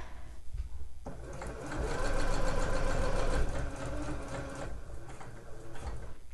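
A sewing machine stitches grosgrain tape, its motor whirring in a rapid, steady mechanical rhythm that speeds up in the middle and then eases off, loud and close.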